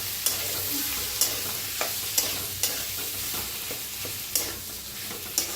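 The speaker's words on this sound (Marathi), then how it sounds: "तर आता चांगलं असं मिक्स करून घेऊया।" A spoon stirs potato filling for bread pattice in a frying pan, scraping with regular clinks about once a second over a steady, soft sizzle, close and alone with no talk.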